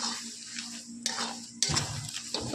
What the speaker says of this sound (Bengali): কিছুটা মশলা দিয়ে আমি এটাকে ভালো করে একবার নেড়ে চেড়ে নেব